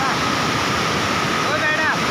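The Musi river near Hyderabad rushes in a steady, full broadband roar of flowing water, loud and close, with no pauses.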